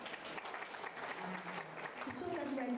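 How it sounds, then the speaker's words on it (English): Audience applause at a World Literacy Day event, moderately distant clapping that runs throughout, with a voice speaking over it near the end. "I thought we were going to applaud."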